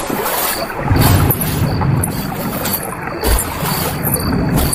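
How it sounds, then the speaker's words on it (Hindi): River-crossing effect for a Hindi horror audio drama: steady watery wash and sloshing, like wading through a flowing river, with swelling surges and wind-like rush, loud and continuous with no voices. "विराट वापस से नदी पार करने लग जाता है।"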